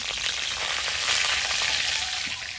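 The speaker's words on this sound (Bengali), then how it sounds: "তেলের মধ্যে দেবো একটা শুকনো লঙ্কা তেজপাতা গোটা জিরে" Dried chili, bay leaf and whole cumin seeds sizzling in hot oil in a kadai for a Bengali chorchori, a steady close hiss and crackle without pause.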